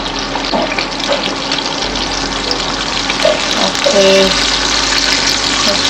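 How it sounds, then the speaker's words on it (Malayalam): Onions deep frying in oil for fish biryani: a steady, dense sizzle running throughout, with a few clinks and stirring sounds and faint talk in the background. "നമ്മൾ സവാളൊക്കെ ഡീപ് ഫ്രൈ ആയിട്ട് വന്നിട്ടുണ്ട്"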